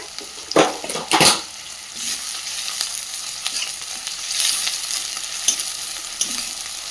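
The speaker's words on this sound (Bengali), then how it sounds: "পেঁয়াজটাকে হালকা একটু ভেজে নিয়েছে, মানে ভেজে নিচ্ছে আর কি" Chopped onion fries in a pan, a continuous sizzle with stirring scrapes and a few louder clanks near the start, steady and close, with no voices.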